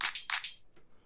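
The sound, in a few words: hi-hat sample in tropical pop house track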